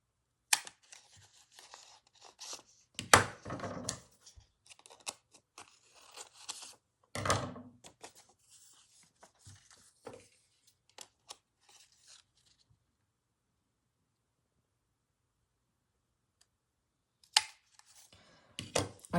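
Paper being cut by hand with scissors for a handmade woodland journal gives close, crisp snips and rustles in irregular bursts, then a long quiet gap before a few more cuts.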